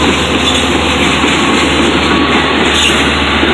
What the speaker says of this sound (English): Here comes the Patchogue train.